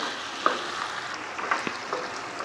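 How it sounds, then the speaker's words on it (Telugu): Bitter gourd curry frying in a pan with little oil, a steady soft sizzle broken by a few light clinks of a spatula stirring, with no talking. "ఇంకా కొంచెం సేపు ఇలాగే ఫ్రై చేసుకుందాం"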